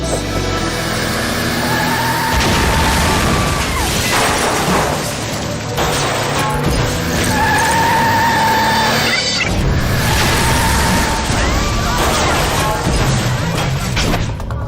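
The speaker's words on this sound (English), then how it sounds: "a 73-year-old woman in a pickup truck plows into the store, destroying everything in its path" A 73-year-old driver's pickup truck plows into a Dollar General store, loud crashing, thuds and debris impacts in repeated heavy bursts over a continuous roar of wreckage.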